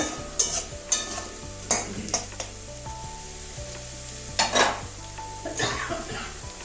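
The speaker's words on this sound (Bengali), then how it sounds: "কিছুক্ষণ নাড়িয়ে নেবো কাঁচা গন্ধ আদা রসুনের কাঁচা গন্ধটা যাওয়া পর্যন্ত" Ginger-garlic paste stirred in a frying pan for a potato and pea-greens dish: a steady soft sizzle punctuated by several sharp spatula scrapes and knocks against the pan, spaced irregularly.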